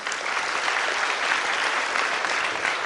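An audience at the Times NIE Fundamental Quiz 2018-19 in Mumbai gives steady, even applause for a speaker. Many hands clap at a constant level with no voices above it.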